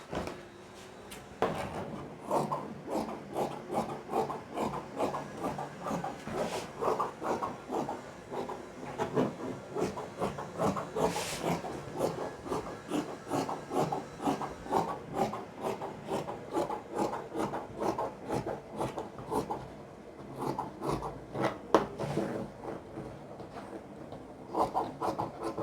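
Scissors cut straight through folded fabric for a high/low bubu top, a close, quiet run of rhythmic rasping snips and rubbing strokes repeating steadily throughout, with no talking.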